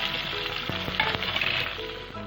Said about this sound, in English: Now add the chopped onions and fry them until they turn light brown.